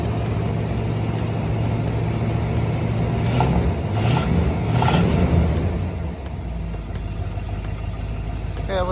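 A 1985 Chevy Suburban C20 engine idles with a steady low rumble that swells slightly midway, then settles back to an even idle.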